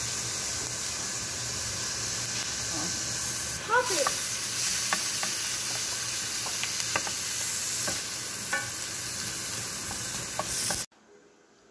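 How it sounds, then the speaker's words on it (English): Onion, bell pepper and celery sauté in a skillet as creamy red beans New Orleans style cook, giving a steady close sizzle with scattered stirring clicks and scrapes, then cutting off abruptly near the end. "I got my onion and bell pepper and celery sauteing in here"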